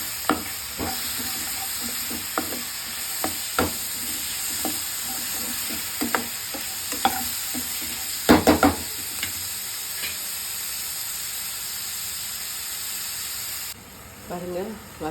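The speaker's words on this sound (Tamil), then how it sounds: "இதில் வதங்கிடுச்சு, காய் போட்டுருவோம்." Finely cut beans and carrots sauté in a pan for South Indian rava kichadi, with a constant sizzle and hiss broken by repeated clinks and scrapes of a utensil. A louder burst of stirring comes partway through, and the sizzling drops away near the end.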